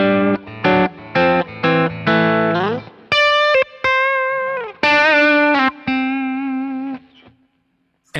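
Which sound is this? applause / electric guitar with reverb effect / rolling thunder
electric guitar with reverb effect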